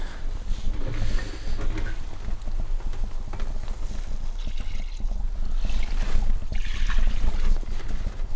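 Old, dirty diesel pours and spills out of a fuel tank from an engine that would not start, making a steady, loud, broadband rush of splashing liquid that continues through the whole stretch.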